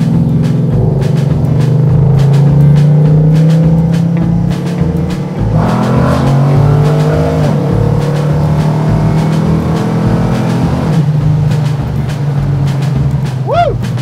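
A Dodge Challenger engine held at full throttle gives a loud, steady rumbling roar that swells and shifts in pitch partway through, with voices faintly underneath.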